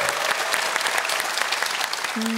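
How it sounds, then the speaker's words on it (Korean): A studio audience at a Korean television show about art bursts into steady, dense applause that carries on unbroken throughout, with a brief tonal hum near the end. "큰 박수 한번 보내주시죠"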